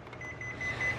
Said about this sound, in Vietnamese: Bật nó chỉ kêu tít tít thôi.